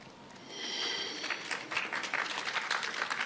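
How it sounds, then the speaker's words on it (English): An audience at a channeling event claps, scattered handclaps building after a soft breathy start into a light, uneven patter from a modest crowd. "Oh, clapping for elements now."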